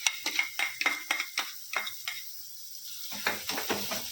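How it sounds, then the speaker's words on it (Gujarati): A medium-sized onion sizzling in a hot pan while being stirred, with a run of quick scraping, clinking strokes, a brief lull, then more stirring over a faint steady sizzle. "હવે તેની અંદર આપણે જે મેં મીડિયમ સાઈઝની ડુંગળી લીધી હતી તે એડ કરી દઈશું"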